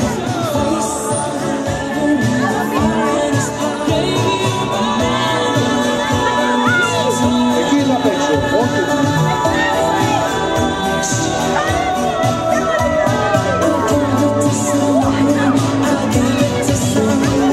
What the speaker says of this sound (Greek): θέλουμε ένα δυνατό χειροκρότημα για την Αγγελική